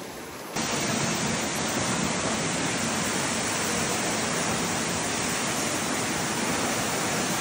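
Zenith waterfall roaring as a loud, constant broadband rush of falling water close by, rising abruptly after the first half-second and holding steady without a break.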